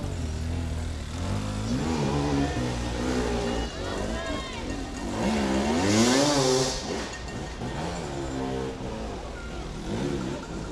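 An enduro motorcycle engine at the Red Bull Tennessee Knockout revs repeatedly, its pitch rising and falling in quick throttle bursts, with a commentator talking over it.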